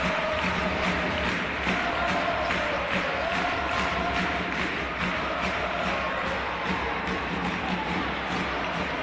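A basketball crowd at a CB Avenida versus Girona game in Salamanca cheers as one continuous, dense roar that rises and falls a little throughout, with no clear single voices standing out.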